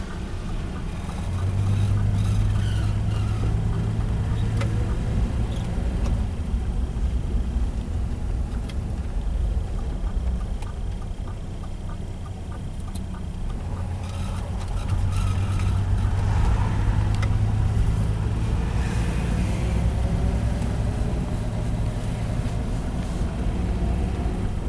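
A 1962 Dodge Dart 330 with a push-button transmission drives around the block, its engine a steady low drone that swells and eases with shifts in speed throughout, with no talk.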